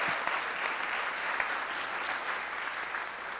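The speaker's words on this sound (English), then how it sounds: "So let's give him another round of applause." Steady applause from a civic club luncheon audience honoring a youth program director, a dense, even patter of many hands clapping nearby for the full stretch with no talk over it.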